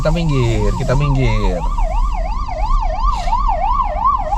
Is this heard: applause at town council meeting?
no